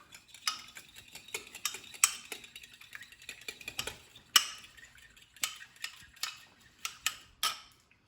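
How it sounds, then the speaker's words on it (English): Eggs whipped in a bowl for gnocchi dough, heard as close, irregular clicking and tapping strokes in quick bursts with brief pauses, and no talking. "Start getting your eggs whipped up."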